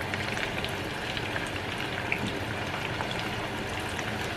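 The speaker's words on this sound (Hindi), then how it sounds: "लो टू मीडियम फ्लेम पर इसे क्रिस्पी ब्राउन होने तक फ्राई करना है" Chicken sticks sizzle in oil over a low-medium flame, a steady even hiss with fine popping crackles continuing throughout at moderate volume.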